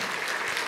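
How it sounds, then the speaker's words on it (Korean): A congregation at a Sunday worship service in a Korean church gives a brief burst of encouraging applause, dense, close clapping that fills the whole short moment. "우리 권사님 계신데 격려의 박수 한번 하도록 하겠습니다"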